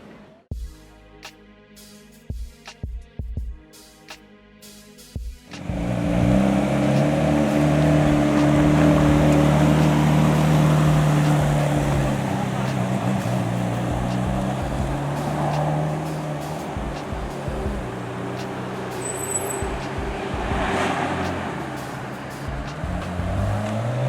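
A Ferrari 458 Italia engine rises from idle into a loud, sustained drive, its tone climbing and holding steady with gear-linked pitch changes, close and dominant throughout after a few brief clicks at the start.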